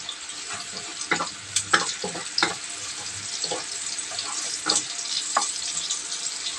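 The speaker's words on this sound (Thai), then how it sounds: "แล้วก็จะเจียว หอมให้หอม" Shallots frying in a pan until fragrant, a steady close sizzle with occasional crackles and spoon scrapes as they are stirred, no voices.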